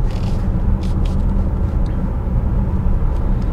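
A 2022 BMW X5 sDrive40i driving in comfort mode, heard from inside the cabin as a steady low road and engine rumble with faint wind noise, continuous and muted.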